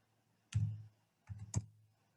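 Computer keyboard typing: a few sharp key clicks in two short bursts, close and distinct against a quiet background.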